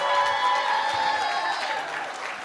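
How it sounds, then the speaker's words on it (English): Audience applause with some cheering at a virtual town hall, a dense steady clatter of many hands that stays loud throughout and tapers slightly toward the end. "Give them one more round of applause as they get out of here"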